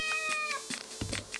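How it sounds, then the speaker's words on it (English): A cat meows through a smart speaker in a product demo, a near, clear tonal call with rising and falling pitch, followed by quieter voice-like chirps and short speech fragments. "This is a cat."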